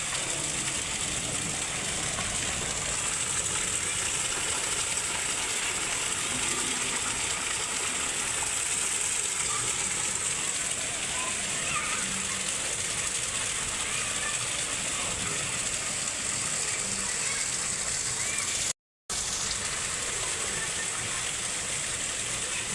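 Floodwater from hours of heavy rain rushes in a steady, continuous broadband roar, close and unbroken apart from a brief dropout near the end.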